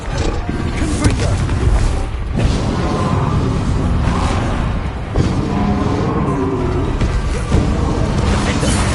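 Confringo explosion spell cast in a Harry Potter video game, a dense roaring blast with whooshing bursts that swell and restart several times over a constant loud wash.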